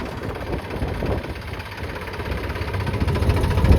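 A 7250 tractor stuck in a wet, waterlogged field idles with a steady, close diesel rumble that rises slightly in loudness toward the end. No voices are heard over it.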